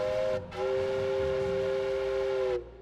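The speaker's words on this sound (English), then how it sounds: "When the factory whistle blew on November 3, 1885" A factory steam whistle in 1885 Tacoma blows loud and steady, cuts out briefly after the first half-second, then sounds again as one long sustained tone for about two seconds before stopping.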